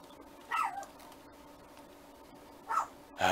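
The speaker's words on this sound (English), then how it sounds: "Ah, my dog's barking." A pet dog barks indoors in two short, faint bursts spaced a couple of seconds apart, with a quiet room tone and a brief rustle at the end.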